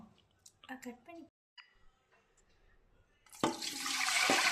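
Water poured into a small pressure cooker to cook sambar rice, a steady loud splashing rush starting late and continuing to the end, after a stretch of speech and kitchen noise.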